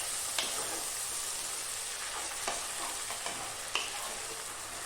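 Spiced masala for chicken fries in a pan with a steady, close sizzle, punctuated by a few soft scraping strokes of a spoon as it is stirred.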